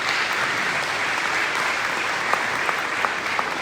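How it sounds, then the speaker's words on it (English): Audience applause at a school district's State of Our District breakfast, a steady wash of clapping from a crowded room with a few sharper nearby claps. "Can we please give a round of applause for that,"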